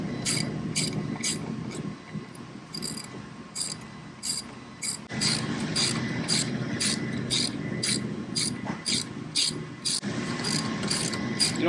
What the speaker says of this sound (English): Put a bolt through, get the nut started.